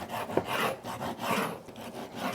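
A knife rasps and scrapes through the shaved bone ends of a rack of smoked pork ribs coated in chud rub, a steady close gritty sawing with one sharper crack near the start.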